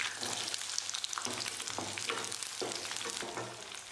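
Small onions and mustard seeds frying in hot oil for a tamarind kulambu, a steady close sizzle with crackling pops and occasional stirring scrapes, no talk.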